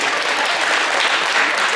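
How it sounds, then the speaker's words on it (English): Audience applause at a high school post-prom show, a dense, steady wash of clapping that fills the room evenly from start to finish without pause. "Give her a round of applause"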